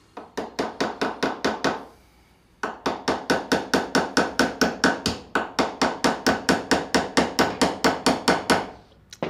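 Hammer striking a hacksaw piece laid sideways on a workbench, dozens of sharp, evenly spaced metallic blows in quick runs, with one short pause and a couple of brief breaks.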